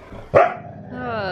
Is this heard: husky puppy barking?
yes